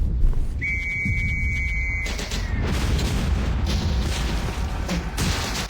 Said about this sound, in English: as they waited for the whistle to blow